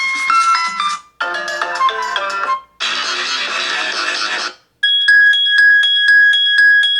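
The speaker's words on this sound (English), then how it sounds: "See, I like a ringtone like that" Ringtones play from a Doogee S100 Pro phone, several short melodic tone sequences separated by brief pauses, the last a repeating bright chiming pattern, loud and close with no voices.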